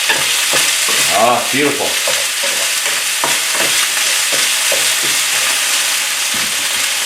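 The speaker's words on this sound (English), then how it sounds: "I like to brown the beef a little bit." Beef browns in a hot pan with ginger, garlic and homemade hot chili, sizzling and frying steadily while being stirred with repeated scraping clatters; a voice briefly speaks over it.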